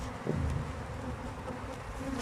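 Honey bees drone in an opened beehive, a steady close swarm hum with no pauses and no voices.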